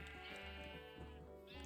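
Sheep in Minecraft bleat in a close, loud run of repeated wavering calls, one after another with short gaps, no talking over them.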